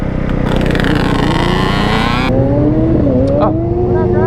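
A supermoto motorcycle engine revs loudly and close, rising in pitch as the rider pulls away for wheelies, then shifts and keeps climbing with a raspy, strained tone.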